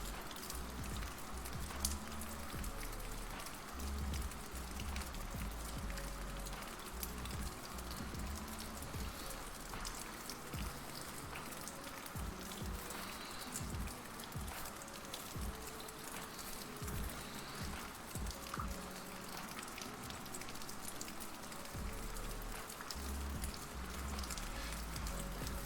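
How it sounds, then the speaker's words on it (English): Recorded rain plays as background ambience on a live stream, a dense, even patter of drops hissing and crackling on a surface, continuous and fairly soft for the whole stretch without any talk. "It's raining, so let's put some rain."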